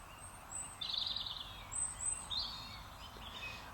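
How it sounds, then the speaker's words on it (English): Wild birds sing in Kylemore wood at evening, with several quiet, high chirps and trills from different birds answering one another over soft background hush. "You'd hear all the different type of bird."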